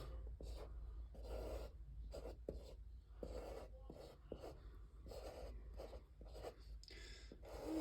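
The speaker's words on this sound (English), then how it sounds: "So I'll draw up a neuron, a crude drawing of one." A pen sketches a rough neuron on paper in quiet, steady strokes with short scratchy bursts and brief pauses, close and faint.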